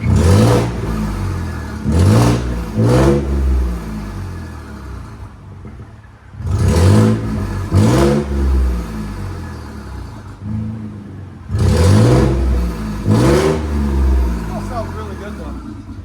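Ford F-150 pickup with the 2.7L EcoBoost engine, aftermarket downpipes and a leaking EGR tube, revved hard three times in separate bursts, each with a quick rise and fall, loud and close, with idle rumble in the gaps.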